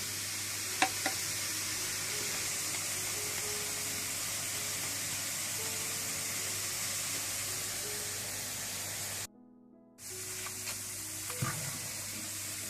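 Boondi for motichoor ladoo frying in hot oil, a steady fizzing sizzle with a spoon stirring round and round, a few faint clinks and a brief cut to silence partway through.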